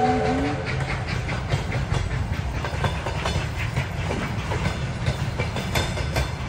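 Steady rumbling clatter of a passenger railway car at a station in Sortavala, Karelia, running continuously with dense rhythmic wheel clicks and broadband rail noise throughout, fairly loud and close, with no talk.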